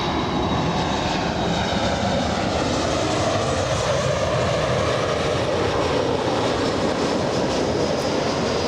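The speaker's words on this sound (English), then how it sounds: "Southwest 995 flying in from San Jose, California" A Southwest Airlines jet arriving at Los Angeles International Airport on a flight from San Jose, heard as a steady, loud broadband engine roar with a faint high whine that holds throughout, with no talking.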